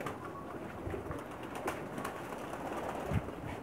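Kamangar pigeon on a Pakistani rooftop cooing softly, a few low coos over a steady noisy background.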